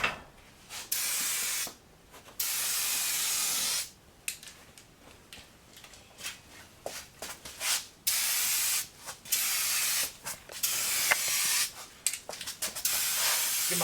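Bursts of aerosol spray paint as light coats go onto a part from a 1966 Ford F100, several hissing passes of a few seconds each separated by short pauses, close and fairly loud, with faint clicks between.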